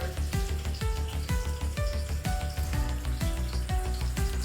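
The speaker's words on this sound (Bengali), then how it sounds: "এটা একটু ভাজবো।" Food sizzling in hot oil in a pan, a steady, close crackle and hiss with rhythmic pops and stirring scrapes, heard alone at moderate volume.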